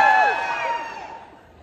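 A convention crowd at an Atlanta comic con panel cheers and whoops loudly, with a bright burst of shouting that fades away over under two seconds.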